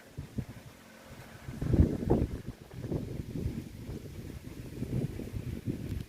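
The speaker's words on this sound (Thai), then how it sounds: "โอ้ ลมเอ้ย ลม" Strong wind blowing outdoors through trees and leaves, a steady rushing roar with gusts that swell and buffet the microphone, continuous throughout with no talking.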